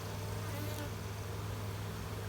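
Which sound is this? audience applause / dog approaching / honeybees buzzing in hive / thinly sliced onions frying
honeybees buzzing in hive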